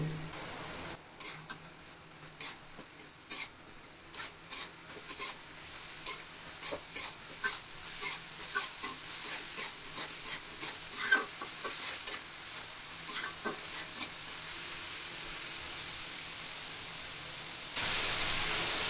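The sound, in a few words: stirring mixed vegetables cooking in a pan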